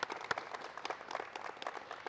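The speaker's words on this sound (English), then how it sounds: "If we can give him a round of applause." Applause from an audience at a live interview show, a soft, distant patter of many hands clapping continuously for a couple of seconds.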